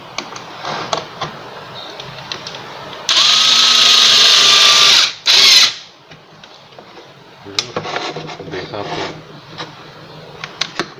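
A Black & Decker cordless screwdriver whirs in a steady two-second burst and then a shorter one as it drives in a screw, close and loud, with someone talking before and after.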